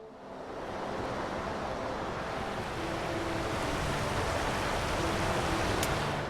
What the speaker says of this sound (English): yeah, right, it's double waterfall.